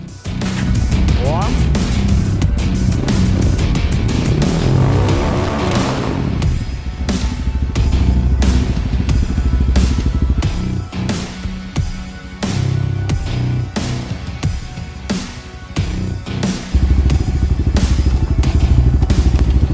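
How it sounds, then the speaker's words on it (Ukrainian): A Rottor Paladin motorcycle engine idles and revs loudly up close after being started in first gear, a throbbing continuous rumble with a rising rev near the start and a people speaking over it. "ми зараз його піднімемо, е, заведемо. Встав першу передачу"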